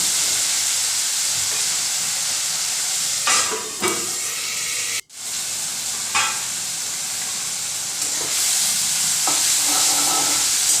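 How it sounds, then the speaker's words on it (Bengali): Steady sizzling of onions frying in a pan with tomato, with a few scraping stirs of a spatula breaking through the constant hiss. "পেঁয়াজটা ভাজা হয়নি এইভাবে ভালোভাবে নেড়ে নেড়ে নেড়ে নেড়ে ভাজতে হবে"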